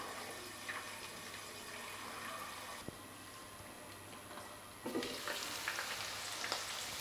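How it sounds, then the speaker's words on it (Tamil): Garlic frying in a covered kadai for a tomato pickle, a continuous low sizzle and splutter with a brief sharp pop partway through and a louder, busier crackle toward the end, no talking. "பூண்டு ஆட் பண்ண உடனே நல்லா வெடிச்சு வர பார்க்கும்."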